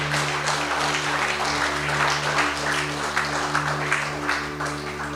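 Congregation applause at a Filipino church worship service, a steady dense wash of clapping filling the room for several seconds over a low steady electrical hum.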